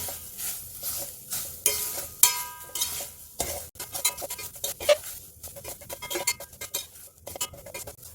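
Grated beetroot dry-roasting on low heat in a heavy pan, stirred with a spoon: repeated scraping strokes and clinks of metal against the pan over a soft sizzle, close and fairly quiet, with no talking.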